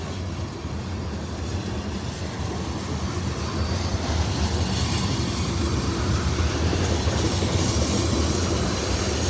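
A CSX freight train rolls past at the north end of Kelly, Kentucky, a loud continuous rumble of wheels and cars with metallic squeal and clatter that swells slightly as it goes by.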